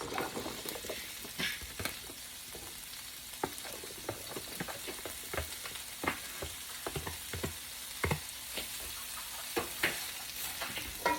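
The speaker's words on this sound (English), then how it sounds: "We're going to throw in our vegetables." Vegetables stir-frying in a pan for shrimp fried rice: a steady bright sizzle close by, broken by frequent clicks and scrapes of a utensil tossing the food, fairly quiet overall with no voices.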